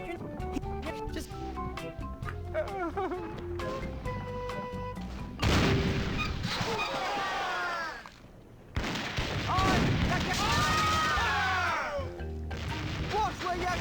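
Cannon fire in the adventure game The Curse of Monkey Island, with loud booming blasts and crashing impacts. They come in bursts over game music, with a brief quiet gap between them.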